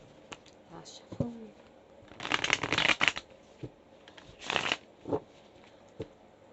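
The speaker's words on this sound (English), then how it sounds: "Last shuffle." A quick burst of tarot cards being riffled and shuffled close by, with a shorter second burst and a few light taps around it.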